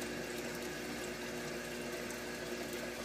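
A Haier XQBM22-C compact portable washing machine fills with water, a steady continuous rush with a faint pump hum, even and unbroken throughout.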